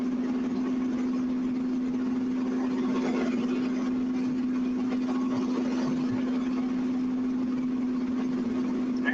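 A vehicle engine drones at steady, fairly high volume while working hard under a heavy load, its constant hum unbroken throughout with no talking.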